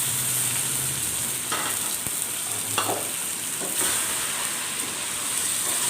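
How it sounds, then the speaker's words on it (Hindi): Chicken for biryani sizzles and fries vigorously in a pan, a steady close crackling hiss broken by occasional stirring scrapes, with no talking. "चिकन को अच्छी तरह से 5 मिनट तक फ्राई करेंगे।"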